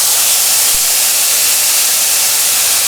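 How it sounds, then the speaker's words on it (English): Pork cutlets dropped into a hot pan and searing, giving a loud, even hiss with one brief thump near the start. "then I'm going to put these pork cutlets in there"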